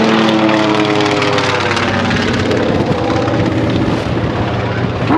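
A 9-cylinder, 1,000 horsepower radial aircraft engine runs loud and steady with a deep, throbbing drone and rich harmonics throughout, buffeted by strong wind.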